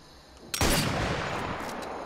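A single loud sniper rifle shot in the VR shooter Sniper Elite VR cracks out after a quiet lead-in, followed by a long, rumbling reverberant tail that slowly fades.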